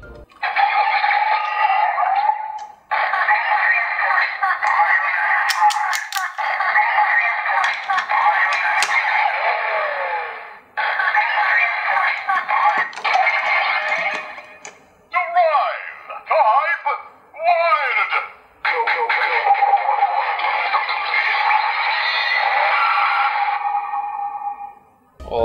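A Kamen Rider Drive Driver toy belt plays its electronic engine sound effects, with bright synthetic revving tones and chirpy tones in several bursts separated by short pauses, loud and close.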